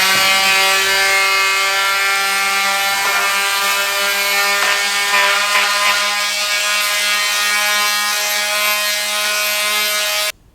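A lightweight Ryobi detail sander runs steadily on wood, a loud, even electric motor whine with a bright harmonic buzz that holds for about ten seconds before cutting off abruptly.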